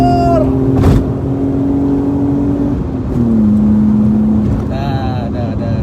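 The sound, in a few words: BMW E36 323 inline six engine revving to 7100 rpm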